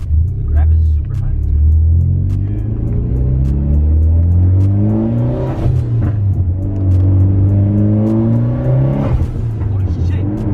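A Nissan 350Z engine revs up and down in gear changes with rev matching, a loud rumbling note rising and falling heard from inside the car, with people talking over it.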